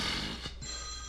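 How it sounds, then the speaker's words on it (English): Mobile phone ringtone sounding in a room, a sustained electronic tone with a brief break partway through, moderately loud with no speech. "Whose phone's ringing?"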